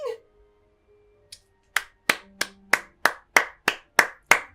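Sharp, isolated hand claps in a video game, about ten crisp claps in a steady, deliberate rhythm after a brief sound and a single early clap, close and dry.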